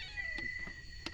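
A small kitten out in mountain country gives thin, high-pitched meows, close and clear against quiet outdoor background noise.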